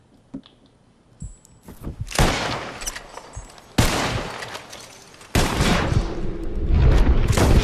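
Rifle shots ring out in the Red Dead Redemption 2 western game, three loud sharp cracks a second or so apart, each followed by a rolling echo, after a few faint clicks.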